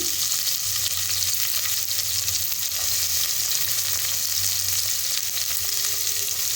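Crushed garlic, three green chilies and finely chopped onion fry in a hot pan for a drumstick-leaf dal, giving a steady, close, continuous sizzle with faint stirring and no talk.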